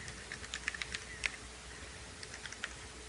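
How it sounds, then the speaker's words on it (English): Someone types a web address on a computer keyboard, producing light, irregular key clicks over about three seconds against a quiet room hiss. "and this time I'm going to type in"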